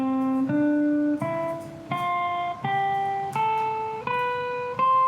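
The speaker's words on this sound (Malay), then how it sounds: "tunjukkan bersama gitarnya bunyi scale major" A guitar plays a major scale upward, eight distinct single notes rising step by step, each plucked and left ringing, evenly paced and clear with no speech.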